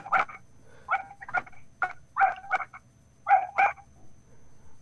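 A dog barks in short bursts, about eight sharp barks in irregular pairs and singles, fairly close and clear, heard during an online class discussion call with no talk over them.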